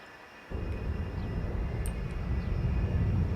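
A propeller airplane engine drones steadily in the SimAirport airport simulator game, starting abruptly and holding a low, even rumble with no talk over it.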